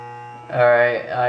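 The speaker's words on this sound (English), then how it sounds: "as I start hearing it cut hair, I am going to lift up the clipper" Electric hair clippers buzz steadily through a self-administered short undercut mohawk, the hum swelling louder midway as the blades bite into hair, then easing back; no talking.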